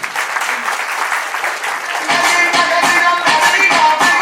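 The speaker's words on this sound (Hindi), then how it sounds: "प्लीज आप लोग की तालियां नहीं बज रही हैं," Audience applause at a company awards event, a dense, steady wash of many hands clapping that grows slightly louder partway through, with faint voices mixed in.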